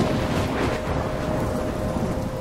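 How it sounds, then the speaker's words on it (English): Steady heavy rain and rumbling thunder fill a video game storm scene, a continuous dense wash of downpour with low rolling rumbles throughout. "I'm trapped in a storm?"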